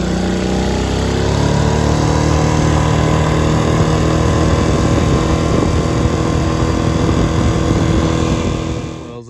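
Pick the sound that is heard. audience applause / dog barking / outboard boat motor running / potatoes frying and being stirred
outboard boat motor running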